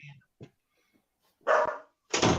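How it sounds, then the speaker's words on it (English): A dog barks indoors behind a closed door, a few short distant yips early on, then two loud close barks in a row. "He's doing his job, barking at the leaves."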